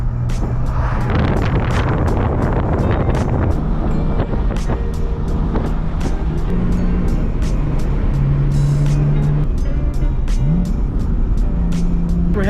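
A 2015 BMW M4 with a six-speed manual and about 500 horsepower is driven hard from inside the cabin. The loud engine rumble rises and falls through several quick gear changes, with constant road and wind roar behind it.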